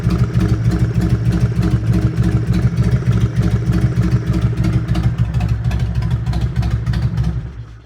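A rebuilt 2003 car engine idles without the choke, running loud and close in a steady, even rhythmic chug, with no voices over it, then cutting off near the end.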